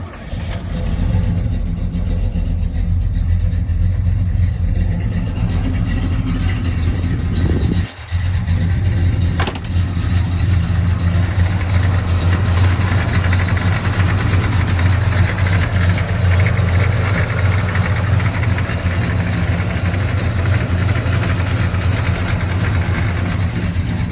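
A 1969 Oldsmobile Cutlass engine runs loud and close, a deep continuous rumble while idling and driving, with one brief dip and a sharp click partway through.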